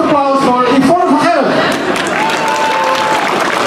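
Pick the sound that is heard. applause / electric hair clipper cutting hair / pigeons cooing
applause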